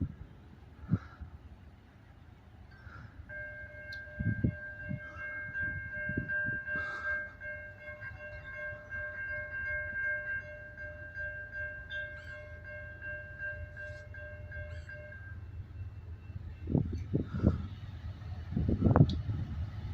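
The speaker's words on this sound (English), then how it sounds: "we got a train coming out of Augusta coming from the right, and I heard 2 trains blowing" A freight train approaches McCormick, South Carolina, sounding a long, sustained multi-tone horn over a low, growing rumble, with clanks and rattles building as it draws nearer.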